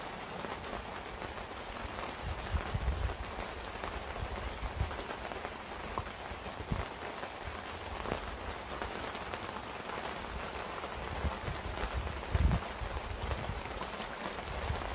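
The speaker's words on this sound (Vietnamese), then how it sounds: "Trời mưa rồi" Steady rain falls on a home garden in Vietnam, a soft, continuous patter of drops on leaves and ground with occasional louder splashes and low thuds, and no voices.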